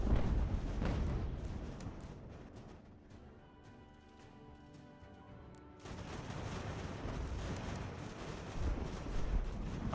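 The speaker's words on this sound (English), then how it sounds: "Our cannons are firing, scaring the living shit out of them. Especially the mortars." Cannon and mortar fire in the Ultimate General: American Revolution video game, with dense rumbling volleys and booms that ease to a quieter lull midway and then swell back to sustained heavy firing.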